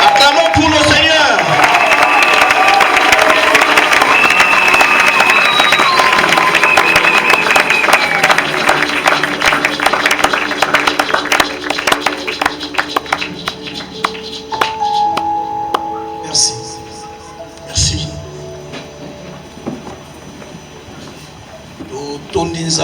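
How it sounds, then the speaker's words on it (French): A church congregation at a 45th-anniversary Sunday service applauds and cheers loudly in welcome of the pastor, a dense crowd roar that gradually thins into scattered claps and voices as music enters. "Acclamons pour le Seigneur."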